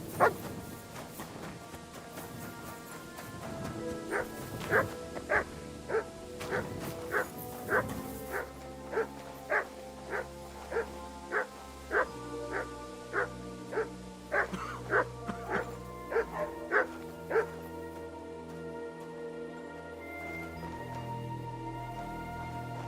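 A dog barks again and again in the medieval video game Kingdom Come: Deliverance II, a long run of evenly spaced, fairly close barks that stops before the end, with soft game background behind it.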